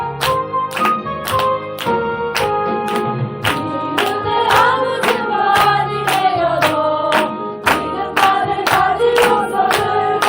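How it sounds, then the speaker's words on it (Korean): Church congregation clapping together on the beat while singing a hymn slowly, sharp evenly spaced claps over sustained voices and accompaniment, loud and close. "박수 치며 천천히 찬양합니다"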